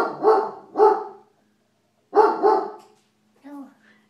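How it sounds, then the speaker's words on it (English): A dog gives several barks in two quick pairs separated by a pause, fairly close, followed by a softer yip-like sound. "You hear the dog?"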